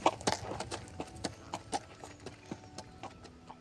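Video game horse hooves clip-clop at a steady trotting rhythm, crisp and close, on a ride toward a forest, with no talk over the footfalls.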